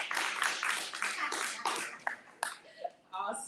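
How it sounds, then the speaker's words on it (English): An audience applauds for a youth team coach at an elite team pinning ceremony, a dense wash of clapping that thins into a few scattered claps near the end. "So please clap for Coach Maya."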